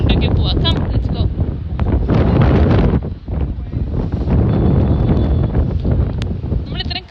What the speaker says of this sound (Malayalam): നമ്മൾ ഇത്രയും കാറ്റ് പ്രതീക്ഷിച്ചില്ല.